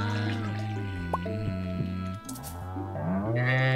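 A cow in the farming video game Stardew Valley gives a drawn-out, tonal moo lasting a few seconds, loud and close, with a brief dripping sound mixed in and a second moo rising near the end.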